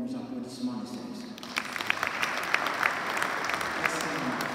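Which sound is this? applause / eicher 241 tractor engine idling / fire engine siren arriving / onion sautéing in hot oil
applause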